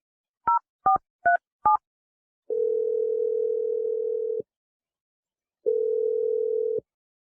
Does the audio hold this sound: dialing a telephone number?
yes